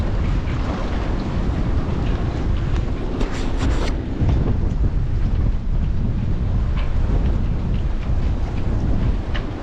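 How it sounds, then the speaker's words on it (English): Strong wind of almost 40 knots roars continuously over a moored boat, a loud, dense buffeting rush with microphone wind noise and a few brief rattles, with no talking. "the freaking wind is blowing almost 40 knots"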